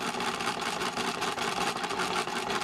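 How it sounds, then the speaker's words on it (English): A sewing machine runs continuously as it stitches a straight seam down a length of fabric, a steady, dense mechanical whir with no pauses or talk. "So I'm sewing my seam"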